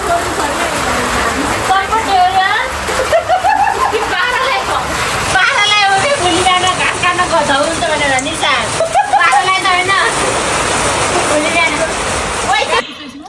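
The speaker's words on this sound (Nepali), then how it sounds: "पानी हाउरी परेको छ" Heavy rain pouring down outdoors during a party, a loud continuous wash of falling water with voices chattering and shouting over it throughout.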